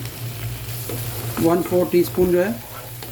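Tomatoes, green chillies and ginger sauté in a pan for Arabic egg shakshuka, a close sizzle with stirring scrapes under a low hum, while someone talks briefly over it midway.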